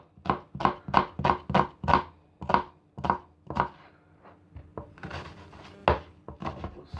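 A knife finely dicing an onion on a cutting board, a quick run of evenly spaced crisp chops followed by slower, irregular cuts and taps, close and clear with no talk.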